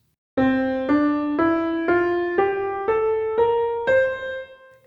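A melody in the Mixolydian mode: eight sustained tones, one after another in a steady rhythm, gently stepping upward in pitch, played alone with a clear, bright timbre.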